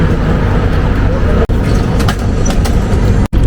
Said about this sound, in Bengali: লাক্সার থেকে ট্রেন ছেড়ে দিল